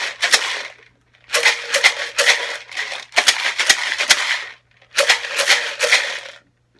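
Dry rice shaken inside a lidded glass jar, heard as four bursts of dense gritty rattling separated by short silences, fairly loud and close with no talking.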